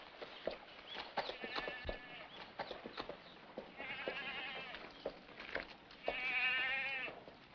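In a 1954 Western film, horse hooves clip-clop in a scattered rhythm, close and moderately loud, mixed with bleating-like animal calls and some talking.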